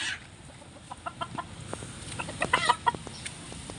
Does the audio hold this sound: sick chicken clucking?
yes